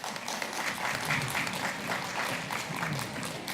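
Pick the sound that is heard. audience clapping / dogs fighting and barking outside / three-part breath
audience clapping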